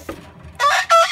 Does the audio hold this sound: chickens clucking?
yes